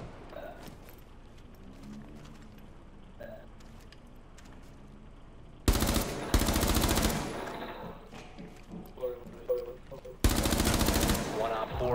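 Bursts of automatic gunfire in Tom Clancy's Rainbow Six Siege, two loud sustained volleys after a quieter stretch of muffled in-game sounds and movement.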